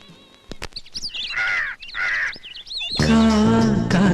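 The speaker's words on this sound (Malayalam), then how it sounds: "കാക്കേ" Crows caw in a few sharp, loud calls in a film scene, followed by music that starts abruptly near the end.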